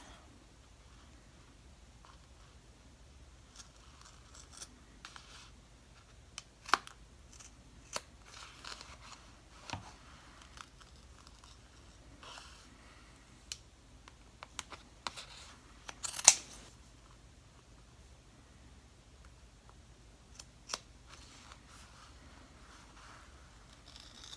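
Quiet, sparse snips and small clicks of scissors cutting embroidery thread, scattered irregularly over near silence with faint handling rustles.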